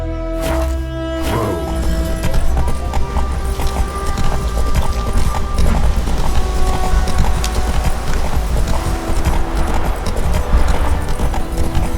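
Roach, the horse in The Witcher 3, gallops with a steady, loud clip-clop of hooves that carries throughout, following a brief opening of other sound.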